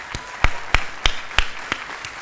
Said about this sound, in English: So how about a big round of applause for all the parents here?